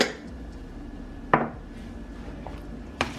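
A spoon clinks twice against a pot while cheese is stirred into shrimp and rice, one sharp knock early and a softer one near the end over a quiet kitchen background.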